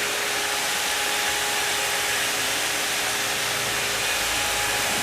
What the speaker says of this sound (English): That little hose vacuum up the hair.